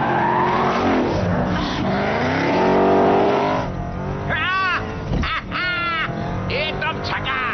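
Car driving fast and turning in a Need for Speed movie scene, with a loud engine roar, rising revs and tire squeals as it corners, and a voice talking over it.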